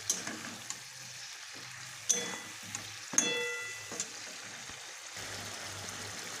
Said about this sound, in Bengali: এদিকে ভালো মতন চিকেনটা আমি কষে নিব এখন নাড়াচাড়া করে।